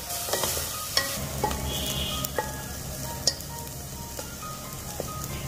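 Chopped onions and green chili fry in a steel pressure cooker with a continuous close sizzle, broken by scattered sharp clicks and scrapes of stirring against the metal.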